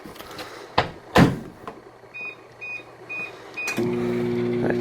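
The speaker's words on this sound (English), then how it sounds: "And then pop in the microwave for about 1 minute 30" A microwave oven being started in a kitchen: door thuds and clicks, a few short electronic beeps, then the steady low hum of the oven running, fairly close and with no talking.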